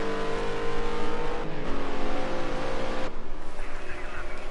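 GT race cars lapping Silverstone in a British GT round, engines howling loudly and steadily with pitch shifts as they rev and pass close by, a commentator talking over the roar.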